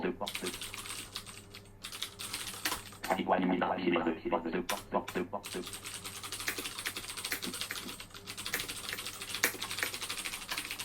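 Rapid, uneven typing on a computer keyboard as text is written, close and fairly quiet, with brief bursts and pauses of clicking keys over a low steady background hum.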